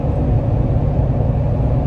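A pickup truck idling on its stock exhaust, a loud, steady low rumble with no variation over a couple of seconds.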